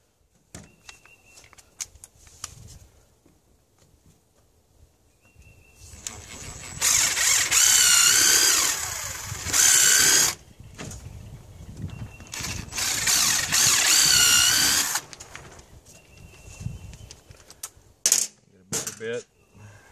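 A power drill boring a hole sized for a quarter-20 screw while making a camera tripod phone adapter, heard as two loud sustained whining bursts of several seconds each, with quieter handling clatter before, between and after.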